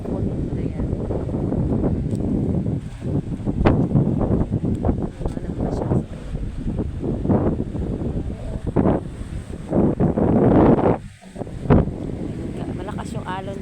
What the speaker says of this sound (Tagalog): dito malakas yung hangin